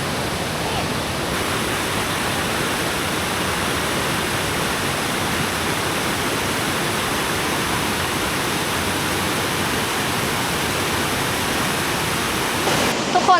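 A loud, constant roar of falling water fills the whole stretch, steady and unbroken, like standing close to Krok I Dok waterfall in Saraburi, Thailand.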